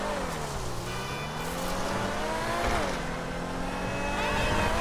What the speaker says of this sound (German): die Woche im Angebot ist der Rennwagen. Den fahre ich gerade.